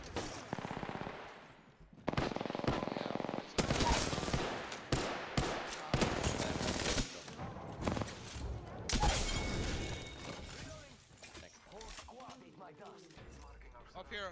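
Rapid bursts of automatic gunfire and scattered single shots crackle through an Apex Legends battle, some close and loud, others farther off, with a player's voice talking over them.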